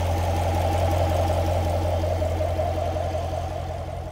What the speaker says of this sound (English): You hear a valve tappet noise, but that is a push rod motor.